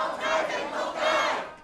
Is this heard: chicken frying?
no